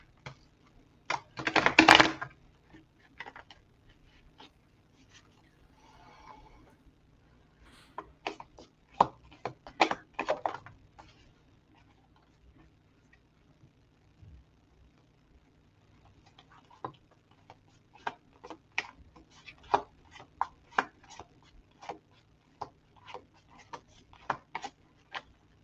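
Cards are shuffled by hand during a psychic reading, giving sharp, crisp ticking clicks and riffles in irregular bursts. One brief loud flurry comes near the start, then there are sparser snaps and a denser run toward the end.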